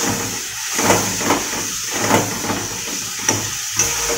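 Chicken masala, thinned with a splash of water, sautéing in a pan: a steady moderate hiss and sizzle broken by regular scraping pulses of stirring.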